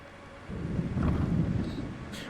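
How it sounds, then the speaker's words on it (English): A deep rumble of thunder swells up during a storm in the video game Skyrim, a single low bassy roll that builds and fades, with faint rain and wind behind it and no talking. "That thunder sounds really nice and realistically bassy."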